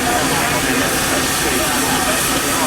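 Steady broadband hiss of a John Fowler of Leeds showman's steam engine at an outdoor steam rally, loud and continuous throughout, with faint voices mixed into the background.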